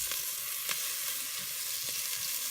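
Onions, shrimp and sausage fry in a pan with a steady, close sizzle, broken by a few brief crackling pops, and nobody speaks.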